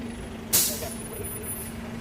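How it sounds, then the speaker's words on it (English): A passing bus releases a sharp hiss of air brakes midway through, a short loud burst over a steady low traffic rumble outdoors. "At least the bus is passing now."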